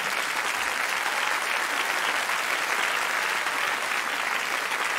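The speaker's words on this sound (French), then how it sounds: "On peut les applaudir très fort." A large audience applauds loudly after a choir performance, a dense, sustained roar of clapping that stays steady and even throughout.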